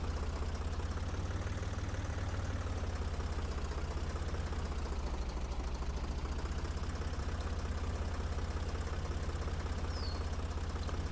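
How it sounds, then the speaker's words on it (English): A tractor engine pulling a plow in Professional Farmer 2014: a steady, droning low engine rumble runs continuously at even loudness, close and alone. "I think this is as fast as this tractor is going to go with this plow."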